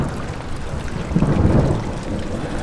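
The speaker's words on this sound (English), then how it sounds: "Oh look, it's raining." Steady rain with a low rolling rumble of thunder swelling in the middle, set in the horror game Amnesia; a dense, enveloping wash with no voices.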